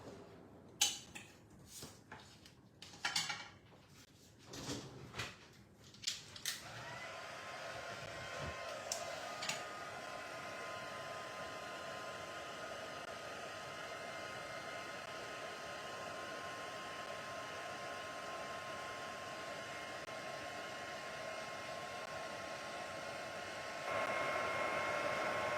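A heat tool running steadily for heat setting paint, a continuous loud blowing hiss that starts after several seconds of clicks and handling noises and holds through to the end.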